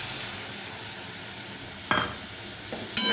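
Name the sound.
spice paste (masala) frying and being stirred in a pan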